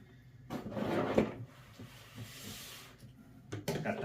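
Cardboard box flaps of a Craftsman 2.5 gallon portable wet/dry vac pulled open, giving a close rustling scrape followed by brief papery flaps and rubs.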